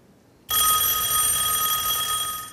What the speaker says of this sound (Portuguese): Deixa eu ligar para o Guerra e conversar um pouco sobre isso.